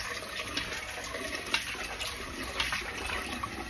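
Rice is swished and rinsed in water, a continuous close splashing and sloshing with small louder swirls, without any talking.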